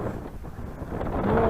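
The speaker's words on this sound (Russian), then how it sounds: "Потому что такого ветра у нас не было уже давно." Strong wind buffeting a microphone outdoors by a river, a rough low-frequency rumble that swells louder toward the end, with faint voice-like traces mixed in.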